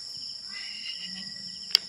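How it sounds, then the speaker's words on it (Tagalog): Crickets chirp at night at the Yambo Lake campsite in Nagcarlan, Laguna, a steady high-pitched trilling drone with faint low murmurs beneath and a single sharp click near the end. "pakinggan mo yung kuliglig"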